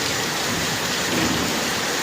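Heavy rain pours down in a dense, continuous hiss with no gaps, loud and close, with no voices over it.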